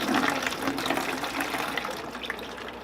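Water drains out of a plastic bag of feeder crickets through a small hole, a steady close gushing pour that slowly eases off, with no talking.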